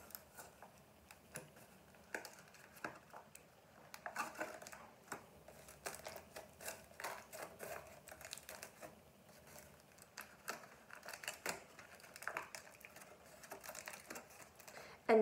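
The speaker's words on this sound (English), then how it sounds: "We're gonna peel this tin foil off." Tin foil is peeled away from a clay craft project in a close, continuous stretch of crinkling and crackling, with small irregular bursts of louder tearing and rustling throughout.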